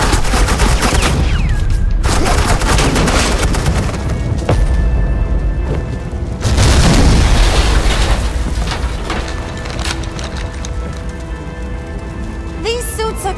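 Sustained suppressing gunfire in Batman: The Enemy Within, a dense, loud barrage of rapid shots and booms rolling continuously for over ten seconds, with a louder surge midway and voices speaking over the din.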